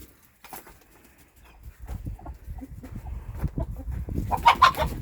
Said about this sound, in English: These chickens are clever.